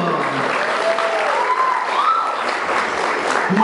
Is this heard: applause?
yes